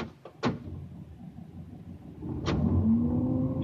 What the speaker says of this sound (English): You hear the engine purr, right?